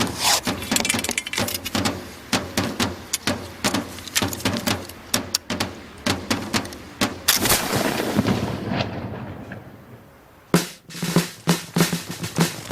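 Muskets of early eighteenth-century infantry in the War of the Spanish Succession firing in a ragged volley, a rapid series of loud sharp cracks followed by a rolling boom, then a few more scattered shots.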